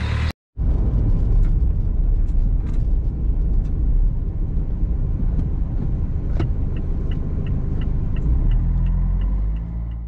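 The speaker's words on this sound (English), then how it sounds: "I'm going to drive around the golf club through West Ella" A car drives around a golf club through West Ella in the East Riding of Yorkshire, its engine and tyre noise a steady, close, loud rumble throughout, broken only by a brief cut at the start.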